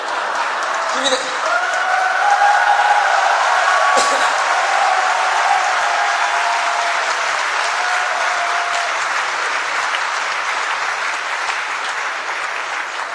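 Sustained crowd applause fills a hall at a 2002 Korean presidential campaign speech, a dense, steady roar of many hands holding loud for the whole stretch with faint voices mixed in.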